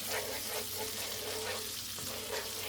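Chopped onions frying in melted fat in a pan for creamed spinach, a steady close hiss of sizzling with faint stirring scrapes running throughout, no voices.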